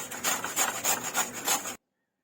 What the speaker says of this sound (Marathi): आता आपण किसून घेऊया